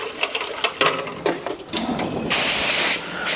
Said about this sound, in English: turn on the compressor, and we'll get this sprayed